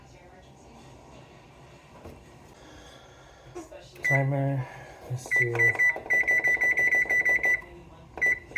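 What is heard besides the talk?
oven timer beeps being set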